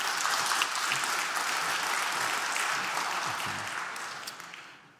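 A conference audience at the Leangkollen Security Conference applauds in a dense, sustained wash of many hands clapping, steady and full for several seconds before fading out at the end, with no talking over it.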